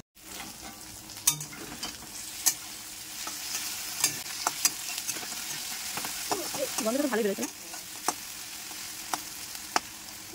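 Potatoes and rice frying in a home kitchen pan, a steady sizzle with occasional stirring clinks, while someone talks briefly over it.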